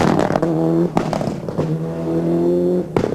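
A rally car at the 1994 Rally of New Zealand races past, its loud engine holding steady revving tones with a brief break in the middle, then fading out abruptly near the end.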